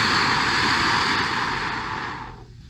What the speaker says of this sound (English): when you breathe out, make a soft whooshing sound like this.